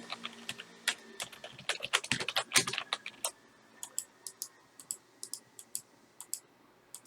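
Fast typing on a computer keyboard, a dense burst of close, sharp key clicks that thins into sparser, irregular taps toward the end, with no voices.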